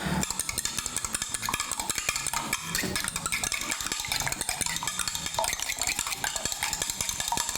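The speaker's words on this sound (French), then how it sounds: "Mélanger avec ma fourchette." Ingredients mixed with a fork in a bowl, a rapid, continuous scraping and clicking of metal against the dish, close and steady throughout without pauses.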